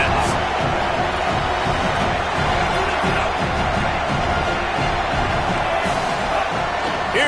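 Stadium crowd in the College Football 27 video game, a steady roaring wall of cheering and noise that stays loud and unbroken throughout, with no clear individual voices standing out.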